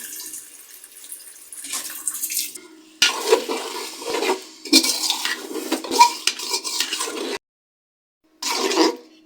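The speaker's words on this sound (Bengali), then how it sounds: "মশলা যাতে না পুড়ে যায় এই জন্য একটু পানি দিয়ে দিলাম" Water is poured into a pan of spices with chopped tomato and green chilli being fried for a duck and new potato curry, giving bursts of hissing and bubbling with brief stirring, loud and close, pausing near the end.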